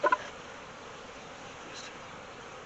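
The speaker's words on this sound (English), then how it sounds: "So shake the bees off." Honey bees buzzing softly on a hive frame, a faint continuous hum after two short knocks at the start, with no talk.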